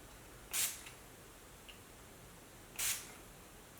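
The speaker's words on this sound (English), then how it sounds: "what I'm gonna do is spray it on the mask" Two short, bright hisses of a setting spray bottle sprayed onto a face mask, about two seconds apart, each a quick burst in an otherwise quiet room.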